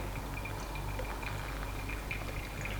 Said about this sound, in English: Now we can pour all the way till the end at once if you want.